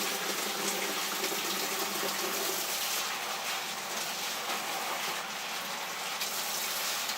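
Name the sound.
water rinsing residual blackworms out of a bag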